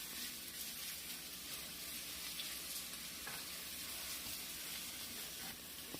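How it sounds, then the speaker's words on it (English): Tomato paste sizzling and frying in a pan while being stirred for chicken parmesan sauce, a steady close hiss with occasional soft scraping stir strokes and no talking. "I'm going to add my tomato paste. I'm going to give it a stir"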